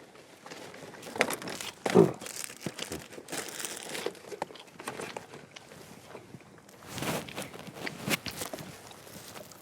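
Trash and a plastic bag being crumpled and handled close by while packing up at a seaside fishing spot, irregular crinkling bursts with a louder rustle early on and more later, no speech.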